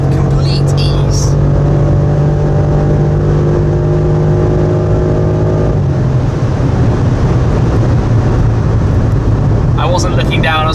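BMW M5 accelerating hard along a road, heard from inside: a loud, steady engine drone with harmonics that hold and then shift to a new gear tone partway through, continuous under road noise.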